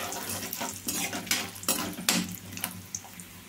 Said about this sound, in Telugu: వీటిలన్నిటిని బాగా వేయించుకోవాలి. కలర్ చేంజ్ అయ్యేదాకా వేయించుకోవాలండి.